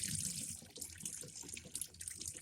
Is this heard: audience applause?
no